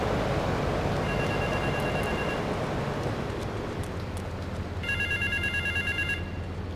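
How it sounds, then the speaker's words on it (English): A telephone rings in Grand Theft Auto 3 with two bursts of bright electronic ringing, separated by a pause, over constant loud background noise from the game. "Is that my phone?"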